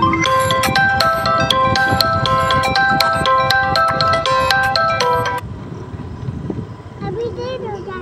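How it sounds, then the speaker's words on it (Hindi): A mobile phone ringtone plays loud and repetitive for about five seconds, with a melodic beeping pattern, over engine rumble and road noise from a moving vehicle, then stops as the vehicle noise continues. "ये फ़ोन कौन कर दिया यार"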